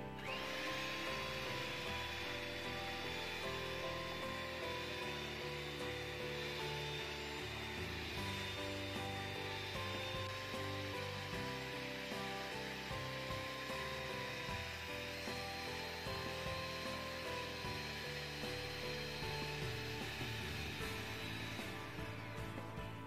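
An electric beater whips melted cream for homemade chocolate ice cream, a steady, fairly loud whirring motor drone running unbroken for the whole stretch with no talking.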